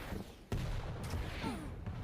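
Machine gun fire and other weapon blasts from a Quake Champions match at a world championship qualifier come as bursts over a dense game mix, with one sharp loud hit near the middle.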